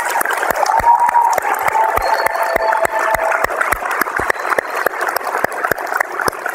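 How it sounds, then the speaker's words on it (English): An audience in a museum auditorium applauds at length, with dense overlapping clapping and a few sharp nearby claps standing out, plus faint whistles and murmurs, steady for several seconds. "Please give them a round of applause."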